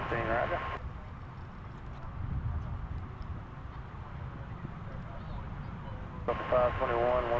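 Lufthansa airliner at DFW Airport, a steady distant jet engine rumble over several seconds, with band-limited radio-like chatter at the start and end.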